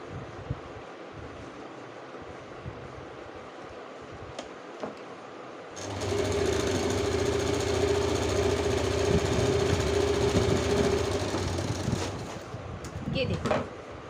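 A sewing machine stitching the shoulder seams of a yellow blouse, starting midway as a close, steady whirring hum that runs several seconds before stopping, with quiet handling noise around it.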